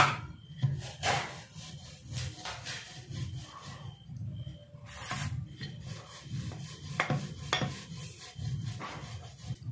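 Wheat flour dough being rolled out, a steady close rubbing and rasping with a low rumbling texture, rhythmic back-and-forth strokes, no talking.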